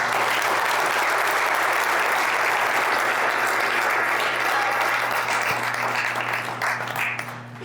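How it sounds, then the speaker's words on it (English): A political event audience gives a speaker a big round of applause, a loud, dense and sustained crowd clapping over a steady hum that thins out toward the end. "Please give him a big round of applause."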